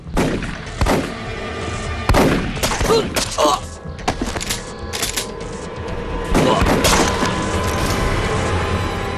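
Film battle scene in a war action movie with Japanese troops, rapid bursts of machine-gun and sniper fire cracking loud and close in irregular volleys, mixed with impacts and splintering wood, with voices briefly heard between shots.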